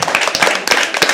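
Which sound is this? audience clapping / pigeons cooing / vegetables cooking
audience clapping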